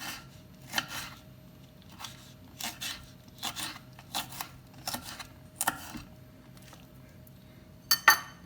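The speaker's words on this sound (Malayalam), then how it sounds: "ഇനി ഈ പച്ചമുളകും റൗണ്ടായിട്ട് കട്ട് ചെയ്യാം" Green chillies are sliced into rounds with a knife on a board, giving a string of sharp, crisp taps in small uneven clusters over a quiet background, with a louder knock near the end.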